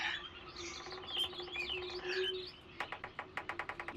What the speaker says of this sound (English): Now, instead of bird chirps, we hear more bird chirps.